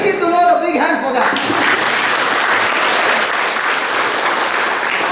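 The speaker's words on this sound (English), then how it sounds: "Can we give the Lord a big hand for that?" Sustained applause from a church congregation honoring the Lord, dense steady clapping filling the room for several seconds after a brief opening moment.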